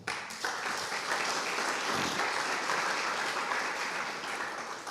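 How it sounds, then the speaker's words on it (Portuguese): Steady, loud applause from a large church congregation during a sermon, continuous clapping filling the whole stretch without a break. "Aplauda o Senhor."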